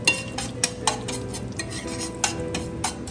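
Spoon stirring brown sugar into melted butter in a pan for a sauce, a steady scraping and clinking with several sharper knocks against the pan, close and fairly loud, with no voices.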